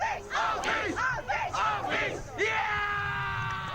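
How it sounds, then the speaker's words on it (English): Supporters of the Afis side at a boys' 2nd league hockey final cheer and yell together, a crowd of voices rising in repeated loud bursts of shouting, then settling into a sustained, ringing group holler. "The Afis supporters have definitely brought their cheering voices today."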